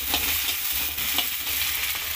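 Ginger-garlic paste, onion paste and spices frying together in a pan for egg curry, a steady close sizzle broken by repeated scraping stirs from a spatula, with no voices.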